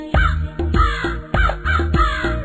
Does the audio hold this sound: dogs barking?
no